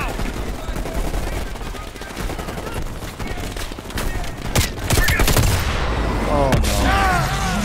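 AK rifle fire in the shooter Call of Duty Black Ops Cold War, with rapid loud cracks and bursts over dense battle noise, sharp shots standing out toward the end, and a voice talking underneath.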